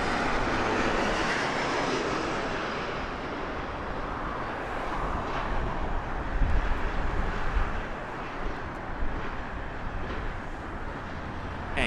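A United Airlines Boeing 737 MAX 9 arriving at Las Vegas Harry Reid International Airport gives a steady, loud jet roar that holds throughout, with a slight swell midway, alone without talk.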